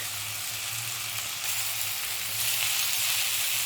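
Spices, cashews, green chilli and ginger-garlic paste fry in oil while being mixed for restaurant-style paneer makhani, a steady close sizzle with a low hum beneath that grows slightly louder partway through.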